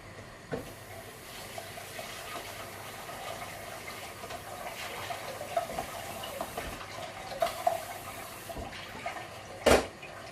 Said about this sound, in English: Rinse those tins immediately, because otherwise they just are very, very hard to deal with.